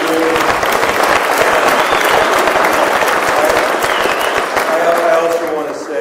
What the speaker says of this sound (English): let's give Nate a round of applause for doing it